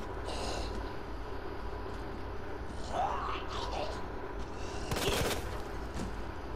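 Pistol fire in the survival-horror game Resident Evil 2: a couple of sharp, isolated shots, one early and one near the end, cracking over a low, steady in-game ambient hum.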